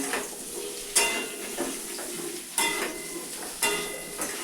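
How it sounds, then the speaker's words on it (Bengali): Potatoes frying in a pan on a newly built clay stove, a steady soft sizzle broken by several sharp clinks and scrapes of a spatula stirring, close by with no talking. "এই যে আলুগুলো ভাজা হচ্ছে"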